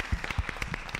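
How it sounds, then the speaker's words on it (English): Audience clapping at a school district board of education meeting, a short scattered burst of hand claps that stays fairly quiet and thin, as from a small room crowd. "let's clap for Miss Doster"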